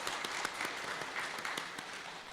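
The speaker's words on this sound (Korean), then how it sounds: "또 우리 시온 찬양대에게는 또 격려를 담아서 우리 박수하겠습니다" A church congregation applauding its choir after a hymn, a soft, steady patter of many hands clapping at a distance, fairly faint and unbroken.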